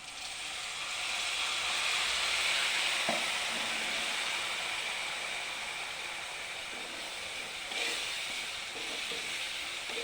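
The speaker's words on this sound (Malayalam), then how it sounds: "ഇനി നമുക്ക് ഇതിലേക്ക് വിനാഗിരി ഒഴിച്ചു കൊടുക്കാം." Vinegar poured into a sizzling fish pickle mixture in a hot pan, giving a loud, steady frying hiss with a couple of brief sharper bursts and light clinks.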